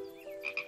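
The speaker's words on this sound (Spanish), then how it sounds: "Mi pequeña ranita, ya te has hecho mayor." A small cartoon frog gives a short croak, a brief, fairly clear call of a few quick pulses with no voices over it.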